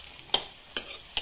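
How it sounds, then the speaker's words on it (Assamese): Local spinach fries in a pan with a steady soft sizzle, broken by three sharp scraping stirs at even intervals. "পাপাই পালেং শাক ভাজি আছে"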